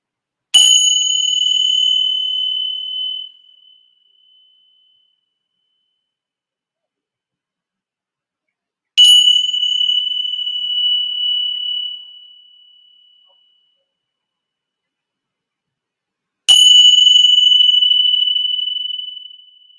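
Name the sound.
meditation bell rung three times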